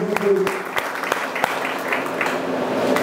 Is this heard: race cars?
no